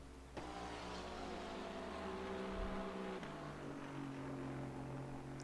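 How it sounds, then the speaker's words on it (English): Aston Martin GT car in the rFactor 2 racing game at Sepang, a low grumbling engine drone held steady with a brief shift in pitch partway through, moderately loud and alone. "Aston Martin, of course, a very low grumbling sound from that front of the car, compared to the shouty Porsches"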